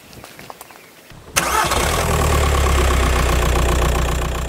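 Skoda Fabia Mk1 with a 1.9 PD diesel engine cranks and catches after a short quiet spell, then settles into a loud, steady, rumbling idle that continues to the end.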